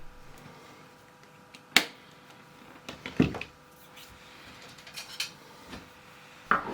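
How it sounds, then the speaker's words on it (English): A spoon clinks and taps against a bowl while a thick, gloopy duck seasoning sauce with hoisin is stirred, giving a few sharp, sparse knocks over near silence. "Give it a good mixing and set it to one side"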